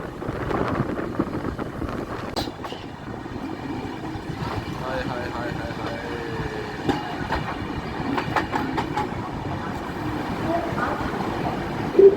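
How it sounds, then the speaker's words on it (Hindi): Train passing below on a lower track in a hilly valley, heard from a moving train as a continuous rumbling clatter with rhythmic wheel clicks and wind buffeting, steady and moderately loud throughout. "लेकिन भाई साहब एक ट्रेन नीचे से गुजर रही है।"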